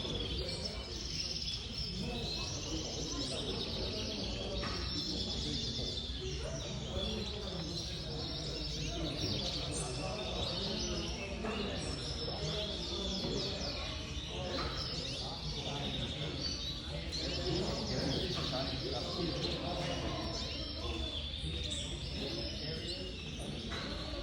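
Gloster canaries sing at a canary competition in Clermont, Florida, producing a dense, continuous stream of bright trills and chirps that hold steady throughout, with other birds calling in the background.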